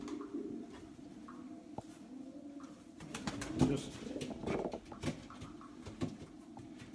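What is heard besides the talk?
racing pigeons cooing in the loft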